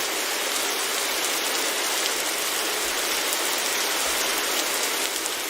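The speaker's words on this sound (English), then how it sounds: "the rain definitely is going to make it even harder" Steady rain falls in the video game The Great Circle, a dense, even hiss of countless drops hitting surfaces, loud and continuous with no voices.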